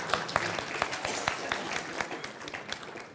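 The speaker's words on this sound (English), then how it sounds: "Give me a round of applause" A modest audience gives a round of applause, distinct individual claps standing out within a brisk, uneven patter that tapers slightly toward the end.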